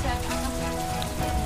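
Rain falls at a tourist spot on the slopes of Merapi in Sleman, Yogyakarta, as a dense, steady patter on surfaces through the whole short stretch.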